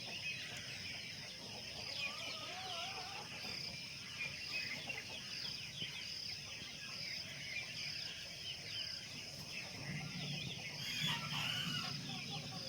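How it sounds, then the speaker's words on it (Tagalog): Rural morning ambience in a Nepal garden, with a rooster and other birds calling repeatedly over a steady chorus of insects, moderately distant and continuous throughout. "Ang sarap pakinggan, mga huni ng ibon."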